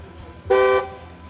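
A Dodge car horn sounds once during a vehicle inspection, a single loud, steady honk lasting about a third of a second over quiet background.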